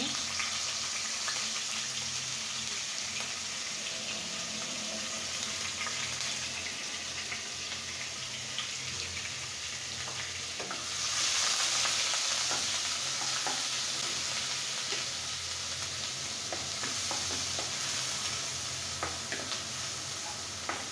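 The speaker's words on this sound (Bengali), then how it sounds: "আমি 2 মিনিট পেঁয়াজটাকে খুব সুন্দর করে ভেজে নেব।" Onion paste frying in a pan for a fish curry with coconut, sizzling steadily throughout with scraping stirring strokes, the sizzle briefly growing louder midway; no talking.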